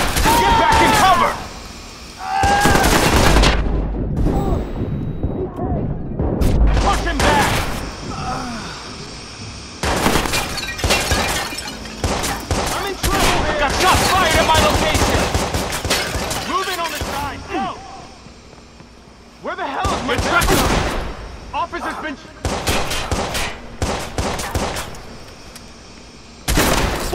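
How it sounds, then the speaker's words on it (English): Gunfire in a Watch Dogs video game shootout: repeated loud bursts of rapid shots and booming impacts in clustered volleys with short gaps, mixed with shouted voices of characters calling out during the fight. "Shots fired!"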